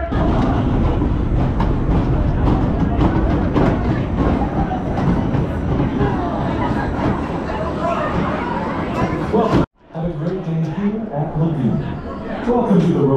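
A wooden roller coaster train at Lagoon amusement park rolls along its track with a loud continuous rumble and clattering, heard from the ground off the ride, a brief dropout near the end, with people talking nearby.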